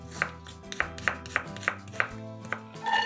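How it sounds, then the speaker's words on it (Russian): Knife dicing an onion on a cutting board: about nine crisp, evenly spaced chops, close and clear, with a faint background hum and no talking. "Одну луковицу нарезаем кубиками."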